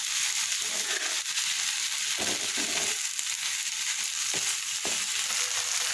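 Vegetables fry uncovered in a pan with a steady, soft sizzle and a few scattered crackles, fairly quiet and without any talk.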